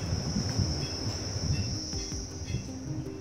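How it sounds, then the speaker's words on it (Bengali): Crickets chirp in a steady, continuous trill at a quiet mountain viewpoint above a green valley, filling the air with no voices present. "চারিদিকে নিস্তব্ধতা আর ঝিঝি পোকার ডাক"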